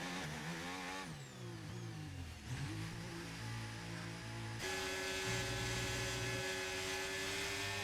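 A racing car engine in a video game race at Abu Dhabi, heard loud and close as it whines through quick downshifts with falling pitch, then settles into a steady, held buzzing note while rolling into the pits, with no talk.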